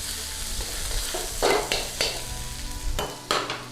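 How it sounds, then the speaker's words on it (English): Garlic and ginger sizzle in a very hot stir-fry pan, a steady crackle broken by several sharp bursts of stirring and spatula scrapes against the pan, close and fairly loud. "I'm going in with some garlic and ginger."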